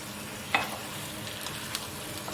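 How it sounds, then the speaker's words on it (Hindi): Water poured into a hot pan of potato and brinjal curry, a brief splash followed by a steady soft sizzle, with no voices. "तकरीबन आधा गिलास पानी डालेंगे।"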